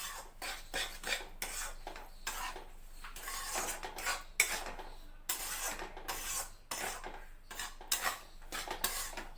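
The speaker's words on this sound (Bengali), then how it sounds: "এটা ঘি দিয়ে আমি আটাটাকে ভেজে নিচ্ছি" Atta flour roasting in ghee in a pan for atta laddu, stirred with a utensil that scrapes and rasps against the metal in repeated strokes, soft and close with no talking.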